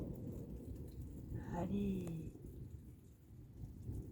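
A thunderstorm heard through an open window: steady rain hissing on surfaces with a low rumble of thunder rolling underneath, someone speaking briefly in French over it.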